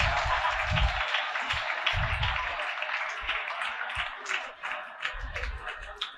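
A classroom breaks into bursts of clapping for a student, several uneven rounds of applause rising and fading across the room amid low murmur.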